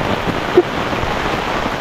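Rain falls steadily during a stormy day in the U Minh Thuong forest, a dense even hiss of drops close by with one brief soft knock partway through.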